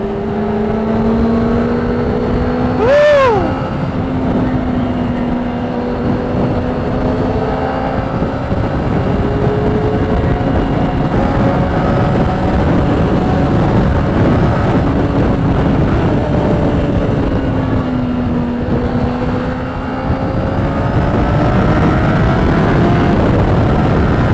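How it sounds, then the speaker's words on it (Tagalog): Traffic on a busy Sunday road heard from a moving motorcycle: steady engine drone and passing vehicles under constant wind rush, with a brief horn-like tone near the start, no talk. "Medyo traffic nga lang ngayon. Medyo maraming sasakyan."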